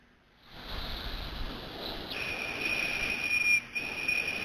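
A Weeden toy steam boiler's whistle sounds in a thin, high, steady tone that starts after a brief quiet moment and holds, wavering slightly in pitch before dipping and resuming, alone without talk.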